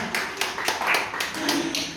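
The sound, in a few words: children clapping hands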